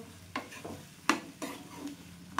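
Mixed vegetable curry with black-eyed peas, cooked without onion or garlic, stirred in a pan: a few separate scraping strokes with soft clinks of the spoon against the pan and a faint sizzle underneath, close and quiet.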